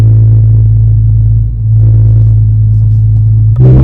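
A Porsche 997 driving: a loud, steady low engine drone and road rumble heard from inside, dipping briefly midway and rising with a brief surge of revs near the end.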